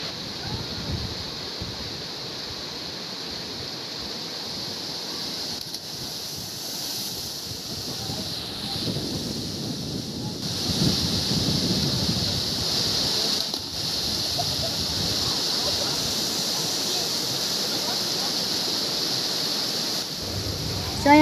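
Talon Pari Falls in Bulacan, with falling water filling the air as a steady, unbroken rushing roar from start to finish, holding even and fairly loud throughout.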